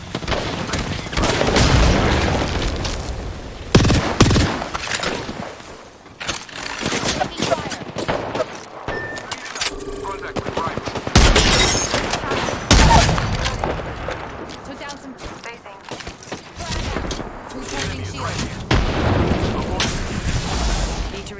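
Gunfire rattles almost continuously in an Apex Legends season 16 match on PS4, with rapid automatic bursts and heavy shots crowding together, loud and close. A voice talks over the shooting now and then.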